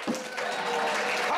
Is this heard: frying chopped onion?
no